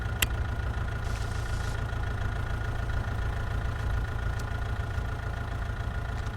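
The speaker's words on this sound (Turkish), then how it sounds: "Yine traktör." Steady low drone of a tractor engine idling in the alien-themed video game Within the Unknown, continuous and even throughout, with a brief hiss and a faint click over the hum.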